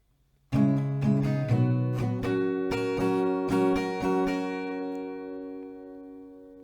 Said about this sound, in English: The strumming pattern full will sound like this.